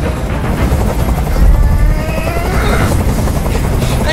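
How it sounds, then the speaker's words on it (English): A helicopter hovers close overhead in the video game Detroit: Become Human during a rooftop hostage standoff, its dense rotor chop throbbing steadily and loudly for the whole stretch, swelling slightly midway, with no one speaking over it. "Tell that helicopter to get out of here!"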